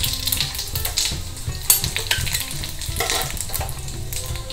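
Mustard seeds, urad dal, cumin and dried red chilies sizzle and fry in hot oil for a South Indian tempering, a steady crackling hiss with scattered sharp pops and faint utensil stirring, close and continuous with no talk.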